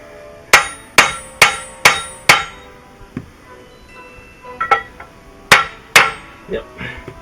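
A hammer drives a gear onto the crankshaft of a Perkins 203 engine: five sharp, evenly spaced metallic blows, then lighter irregular taps and two final strikes, close and ringing.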